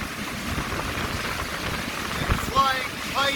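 Heavy rain and gusting wind of Super Typhoon Noru lash Danang, Vietnam, a loud continuous roar with rising gusts, and a brief whistling squeal near the end.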